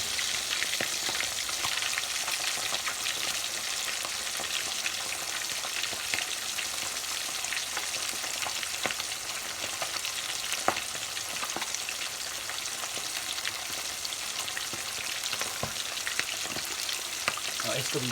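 Salt fish fries steadily in a hot pan, a dense continuous sizzle with scattered pops and crackles, close and fairly loud, no voices over it.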